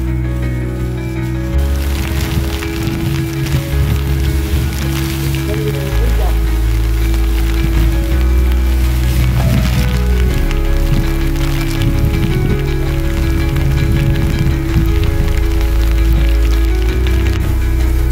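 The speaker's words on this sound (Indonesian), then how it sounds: "Kabut masih menggumpal, gerimis tipis-tipis." Light drizzle falling on a foggy mountain trail, a continuous soft patter of raindrops on nearby surfaces mixed with footsteps and rustling, with loud low-pitched wind rumble underneath.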